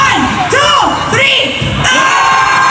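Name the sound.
rally crowd shouting together on cue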